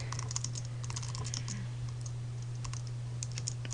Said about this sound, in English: And now I'm forgetting which one I'm typing.